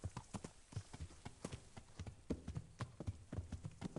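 Horse hooves clip-clopping in a steady, rhythmic gait in the Kingdom Come: Deliverance video game, loud and close, with repeated sharp hoof strikes and no talk over them.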